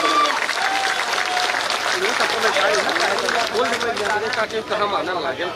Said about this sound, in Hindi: जोरदार तालियां बजाकर स्वागत करना।